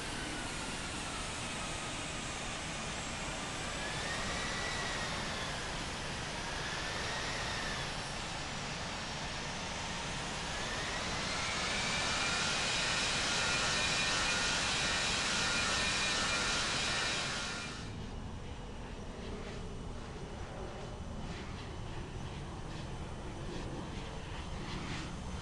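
A heavy cargo jet in the Infinite Flight game takes off from runway 25 right at LAX, its engines building to a broad roar that swells, then cuts off abruptly to a quieter hum.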